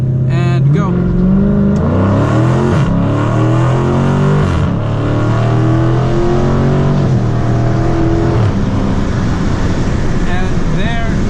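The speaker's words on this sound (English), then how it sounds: "Hold the brakes, build up the RPMs to 2 grand, and go." A Dodge Challenger or Charger with an automatic transmission launches from a stop, its engine revving loud and close and climbing hard in pitch before shifting, with a steady roar throughout.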